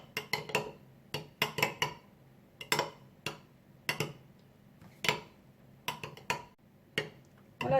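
A utensil stirs yogurt with garlic, salt and lemon juice in a bowl, producing irregular sharp clinks and scrapes against the bowl at close range, in quick clusters separated by short pauses.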